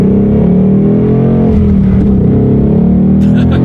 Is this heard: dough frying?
no